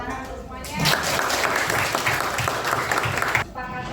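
A classroom of students claps together, a brief burst of applause lasting a few seconds, with a teacher's voice heard before and after it.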